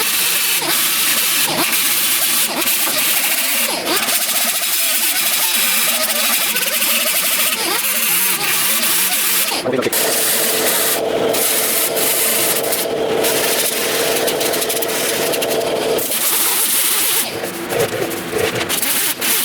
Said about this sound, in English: as I'm grinding this